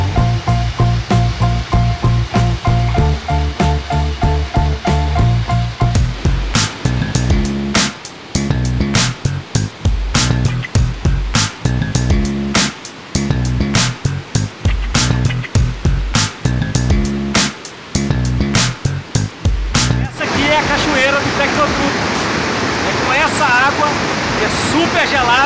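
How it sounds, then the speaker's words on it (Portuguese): Cold water rushing out of a pipe into trout fry tanks at a fish farm: a steady broadband wash of flowing water that swells up loud near the end, after a stretch dominated by music and other sounds. "a água chega pelo aquele tubo e sai por esse tubo aqui, para baixo"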